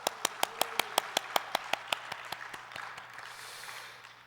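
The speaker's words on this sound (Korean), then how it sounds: "다시 한번 하나님께 영광의 박수 올립니다." Congregation at a Korean Full Gospel church service clapping in praise: crisp, evenly spaced claps in a quick steady rhythm that soften after a couple of seconds and trail off into quiet.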